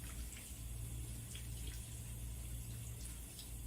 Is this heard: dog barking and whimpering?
no